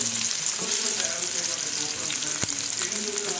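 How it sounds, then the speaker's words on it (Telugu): Onions and green chilies frying in oil in a home kitchen pan while cooking a broad bean and tomato curry, a steady close sizzle with occasional stirring clicks throughout. "కొంచెం నూనె పోసాను. ఉల్లిపాయలు వేసేయండి."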